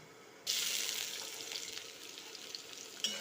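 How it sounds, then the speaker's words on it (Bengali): Sliced onions drop into three spoonfuls of hot white cooking oil, bursting into a sudden bright sizzle that settles into steady close frying, with a few small pops and stirring clicks. "তিন চামচ সাদা তেল নিয়ে নিলাম এবার আমি প্রথমে পেঁয়াজগুলো দিয়ে দেবো"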